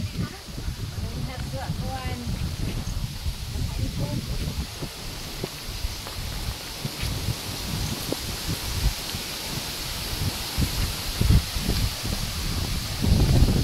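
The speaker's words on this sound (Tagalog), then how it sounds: "Lakas ng hangin." Steady roaring wind buffets the microphone in the Philippine countryside, with rustling and gusts throughout and occasional faint voices underneath.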